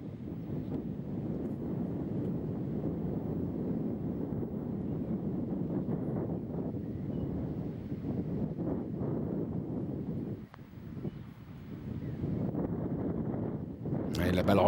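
Gusty wind buffeting the microphone on a golf course during a tournament, a low, rumbling roar that runs steadily, drops out briefly, then surges back, with a voice faintly underneath.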